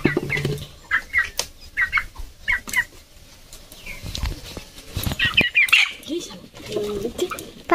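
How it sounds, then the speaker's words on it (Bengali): A sick hen clucks in short repeated bursts close by, with soft background noise and occasional talking in between. "বন্ধুরা আমাদের মুরগি অসুস্থ, তাই বলে মা ওষুধ খাওয়াচ্ছে।"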